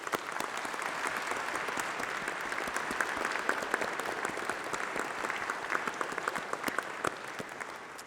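A graduation ceremony crowd of families and graduates keeps up steady, full applause for the whole stretch, dense, even clapping filling a large hall without any speech.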